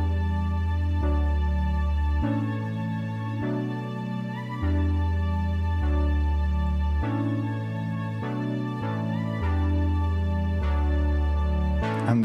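A synth layer plays over sustained chords in an electronic dance remix, the chords changing every second or so beneath steady bass, smooth and close with no voices.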